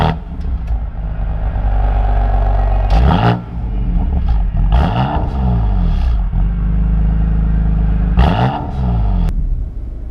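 A BMW M4 Competition drives off, its engine rumbling low and loud with several sharp rev swells and gear changes in quick succession, heard close from the cabin.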